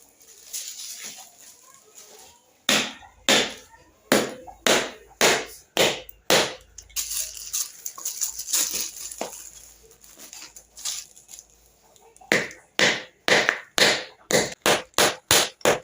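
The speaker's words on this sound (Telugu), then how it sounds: "అందులోకి బెల్లం అయితే దంచుకుందాం" Jaggery being pounded for payasam, heavy rhythmic thuds in fast regular bursts, close and loud, with a pause of softer knocking in the middle before the steady pounding resumes.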